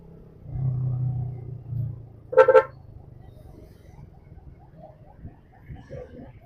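Car horn honks in a short double burst amid congested city street traffic in Taguig City near roadworks, with a low engine rumble before it and quieter traffic noise after.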